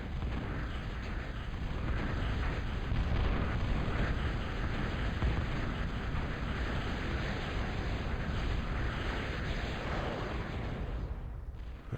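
Bombing run explosions in a strategy video game, a continuous dense roar of rumbling blasts and booms held at steady loudness for several seconds before tailing off.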